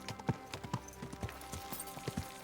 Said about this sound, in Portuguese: É o cavalo ir cavalgando num ritmo mais lento